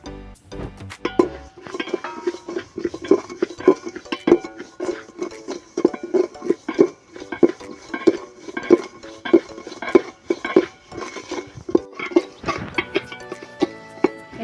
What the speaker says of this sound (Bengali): আমি চালটাকে পুরো ভেজে নেব।